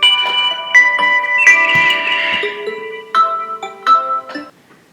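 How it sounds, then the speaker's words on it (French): An alarm ringing as a melodic sequence of clear electronic tones, some held and some quick, plays close and alone before fading out. "Désolé pour le réveil, les gars."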